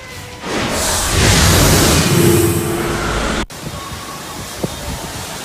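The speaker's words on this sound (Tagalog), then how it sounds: "Malatalon ang tubig na nagmumula sa tuktok ng Meza Residences sa Quezon City, kasunod ng malakas na lindol" Water cascades from the top of the Meza Residences high-rise in Quezon City after a strong earthquake, a loud broad rushing roar for about three seconds that cuts off abruptly into quieter ambient noise.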